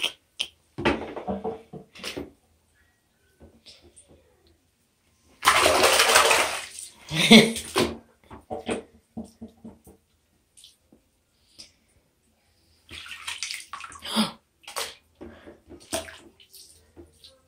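Bathtub water running and splashing as bubbles are made, heard in intermittent bursts of gushing and sloshing separated by quiet gaps, close by.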